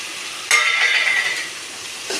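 Onion, tomato, coconut, dried chilli, garlic and tamarind are stirred together in a pan: one loud, close scrape-and-sizzle lasting about a second, then a quieter simmering hiss.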